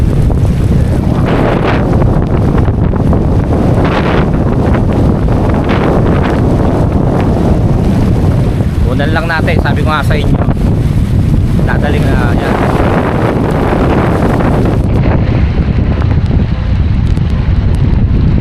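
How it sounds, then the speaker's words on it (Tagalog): Strong wind roars across the microphone with a steady wash of heavy rain and water noise during flooding, while a person talks over it. "Nakakatakot kasi lakas ng ulan. May hangin pa."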